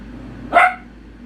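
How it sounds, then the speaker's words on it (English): A single dog bark sounds indoors, short and fairly close, standing out against a quiet room-tone background. "you hear my dog Jupiter talking"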